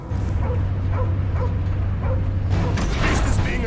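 A dog barks in Marvel's Guardians of the Galaxy game: a series of short, evenly spaced barks over a steady low game hum, followed by a busier burst of sound near the end.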